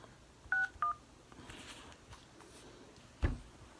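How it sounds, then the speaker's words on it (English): Several short telephone keypad DTMF tones as a phone number is dialed, two distinct beeps near the start and another later, fairly clear against quiet background noise with no talking. "We're going to call them on the phone and ask"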